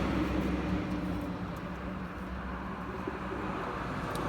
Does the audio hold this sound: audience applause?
no